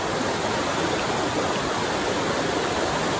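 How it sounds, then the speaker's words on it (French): River flowing close by in the Jura forest, a dense, steady rush of water that fills the whole moment at an even loudness, with no voices over it. "Et comme il y a la rivière derrière"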